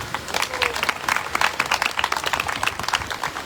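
Group applause at a family house function, a lively crowd clapping with distinct sharp hand claps over a steady murmur for a few seconds.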